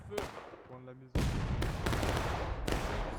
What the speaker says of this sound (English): Harsh volley coming in.